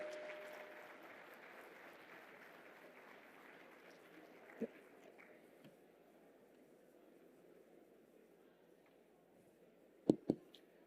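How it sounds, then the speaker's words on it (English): An audience applauding a keynote on accelerating innovation for AI at the Umagine TN tech event in a conference hall, fairly faint clapping that fades away over several seconds, with a couple of sharp knocks near the end. "Ladies and gentlemen, we can do with a better round of applause."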